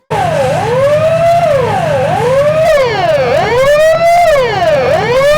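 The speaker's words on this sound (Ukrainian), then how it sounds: "Щотижня проводять у підрозділі навчальні тривоги." A fire station siren sounds during a training alarm at a rural fire unit, loud and continuous, with its pitch steadily rising and falling in a repeated wail.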